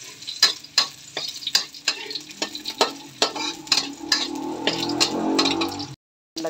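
Corned beef frying in a pan with onion and garlic gives a steady sizzle, broken by repeated sharp scrapes and clacks of stirring, close and loud, before a brief cut to silence near the end.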